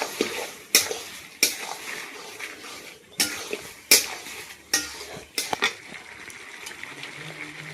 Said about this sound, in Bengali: সব মশলাগুলো দিয়ে মাংসের সাথে ভালো করে এটাকে মাখিয়ে নেবো।